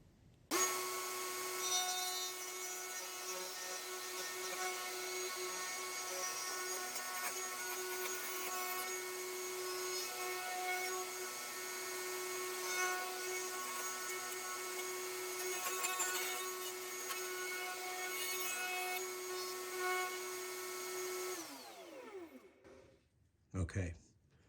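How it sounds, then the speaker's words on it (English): A router cuts a wooden knob with a loud, continuous whining roar for about twenty seconds, then the motor winds down and stops, leaving a couple of soft knocks. "let's try to run it over on the router"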